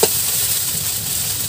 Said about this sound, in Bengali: ডিমটা অর্ধেক ভাজা হয়ে গেছে